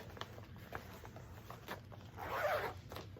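A zipper is pulled on a fabric project bag with one quick, close rasping zip. Quiet room noise and small handling taps come before it.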